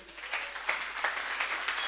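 Brief, scattered clapping from a church congregation during a service, soft and somewhat distant, with uneven bursts of hands over a quiet room.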